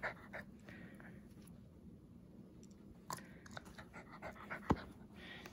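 A husky or wolfdog pants quietly close by, soft rhythmic breathing with a few sharp clicks and chewing sounds, no talking.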